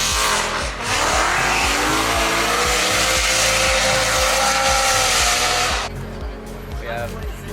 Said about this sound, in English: we got this guy doing fat burnouts every stop for some reason.